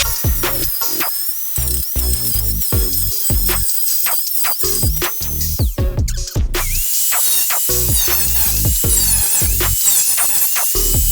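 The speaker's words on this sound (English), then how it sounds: "I'll just sand this up and then I'll cut a few slits in it" Power sanding on sheet metal for a 1965 Mustang restomod, a loud continuous abrasive whine with repeated sharp squealing bursts and brief pauses, close up and alone without talk.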